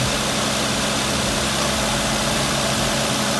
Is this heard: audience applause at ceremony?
no